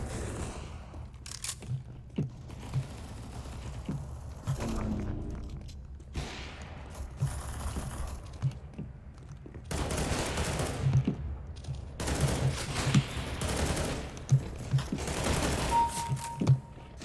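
Bursts of automatic rifle fire in CS:GO, several rapid volleys of sharp shots with thuds and impacts between them, loud and close throughout.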